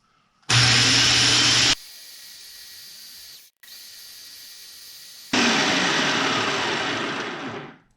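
An electric grinder powders dehydrated raw eggs. It starts with a loud whirring burst, drops to a steadier lower whine, then surges loud again before winding down. The sound is close, with no talking.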